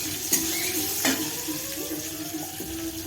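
Chopped onion sizzles and fries in a pan while being stirred, with soft scraping of the spoon over a steady background hiss and a few sharper clinks, no voices heard.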